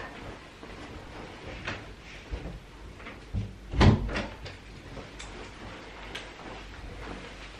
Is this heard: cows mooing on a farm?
no